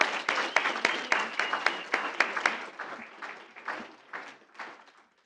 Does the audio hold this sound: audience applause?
yes